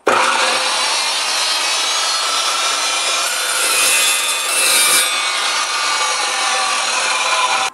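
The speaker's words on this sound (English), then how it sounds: "Now rebar is not that hard of a metal, so it should cut through that pretty quickly." An EVOLUTION carbide-toothed metal chop saw slices through a length of rebar, making a loud continuous grinding screech that swells briefly near the end of the cut, with no voices.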